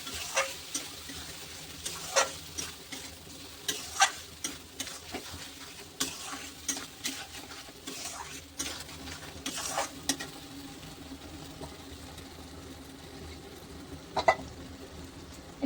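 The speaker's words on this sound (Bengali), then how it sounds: "5 মিনিট লাড়াচাড়া করে ভেজে নেব।" Poppy seeds (posto) fry in a pan while a spatula stirs them, giving soft intermittent scrapes and taps over a faint, steady sizzle. The sound is quiet and close, with no voices.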